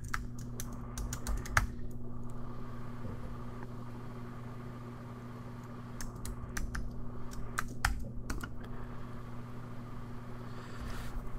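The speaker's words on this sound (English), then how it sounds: "And I type in my password." A password being typed on a computer keyboard, clusters of sharp key taps with pauses between bursts, heard fairly close over a steady low background hum, no talk.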